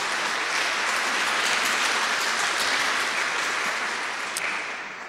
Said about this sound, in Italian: Facciamo un applauso di benvenuto